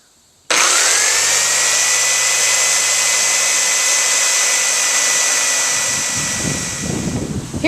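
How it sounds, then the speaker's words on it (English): A jigsaw cutting wood for the feet of a clothes hanging rack starts abruptly, then runs as a loud, steady, high-pitched motor whine with rough buzzing from the cut, close by throughout. "he's going to be using the jigsaw on this"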